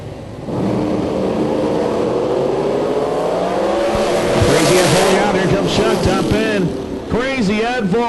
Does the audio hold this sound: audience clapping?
no